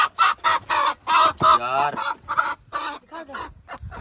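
A chicken clucks in rapid bursts close by, with a squawking call midway, and someone speaks briefly over the clucking.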